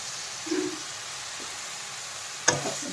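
Dhekia greens and potatoes are stirred in a pan: a soft, steady sizzle and hiss with a brief scrape near the start and one sharp utensil clatter toward the end, close but faint, with no talk.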